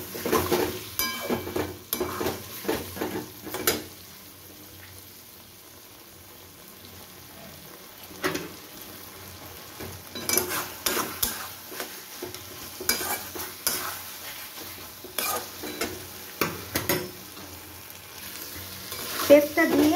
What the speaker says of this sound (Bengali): পেস্টটা দিয়ে আমি মিনিট 2 এটাকে কষিয়ে নিচ্ছি।